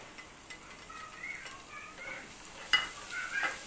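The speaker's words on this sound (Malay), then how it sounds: "Masukkan bawang putih ni sampai dia kekuningan." Garlic is dropped into hot oil in a pot while cooking Arab nasi maqlubah, producing a soft steady sizzle with faint stirring clinks and a brief sharper crackle.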